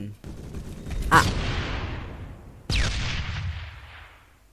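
Gunfire in the first-person shooter Phantom Forces: two sharp, loud shots about a second and a half apart, each followed by a long rumbling echo that fades, with little else around them.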